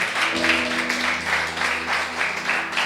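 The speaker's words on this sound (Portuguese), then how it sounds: "Aplauda ao Senhor." A church congregation applauding during a sermon, a dense, steady wash of many hands clapping throughout, fairly loud and close, with a low sustained tone underneath.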